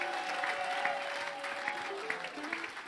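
A church congregation claps and cheers together during a French-language revival service in Brussels, a dense, sustained wash of applause with scattered shouts, while a voice speaks or sings over it.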